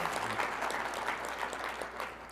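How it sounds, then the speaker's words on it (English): Audience applause at a talk, a faint, steady patter of many hands clapping heard at a distance, fairly brief and without speech over it. "that is worth clapping for"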